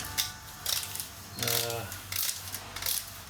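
A torque wrench ratchets nuts on the engine of a 2002 Cadillac DeVille DTS as the motor is being removed. It makes a few short, close clicking bursts at a modest level, with pauses between them.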